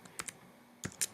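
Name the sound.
typing on a computer keyboard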